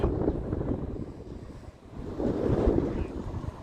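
Wind gusts across an outdoor cricket match in Canberra, Australia, a close rumbling buffeting on the microphone that swells and eases over a few seconds.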